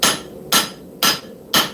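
Four loud, evenly spaced hammer blows on hot scrap steel during knife forging, each a sharp close metallic strike about half a second apart with a short ringing decay, no voices.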